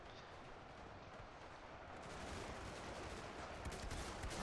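Massed musket volleys from huge French and British armies in a battle simulator game, a dense continuous roar of overlapping gunfire with no gaps, steady and building slightly louder toward the end.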